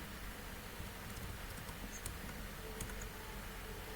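Soft, quick key clicks from typing on a computer keyboard, faint and steady over a low background hum.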